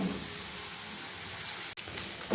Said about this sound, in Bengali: আলুটাকে আগে ভেজে নিই।